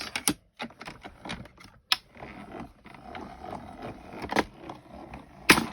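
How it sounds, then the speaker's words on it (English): A Cuttlebug embossing machine presses card through an embossing folder, giving a close, uneven, ratcheting mechanical clatter with short pauses between turns. "Put my piece of card into the folder and emboss."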